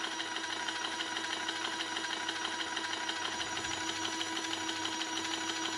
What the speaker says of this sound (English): There's actually a heating coil with a little motor and a piston. That's what the noise is.